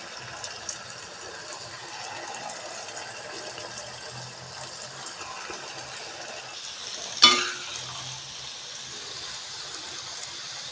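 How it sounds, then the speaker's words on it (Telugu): Churro dough frying in hot oil at low flame, a steady soft sizzle and bubbling hiss running throughout, with one brief louder clatter partway through and no speech. "చక్కగా ఇది గోల్డెన్ బ్రౌన్ కలర్ వచ్చే వరకు ఫ్రై చేసుకోవాలి వీటిని"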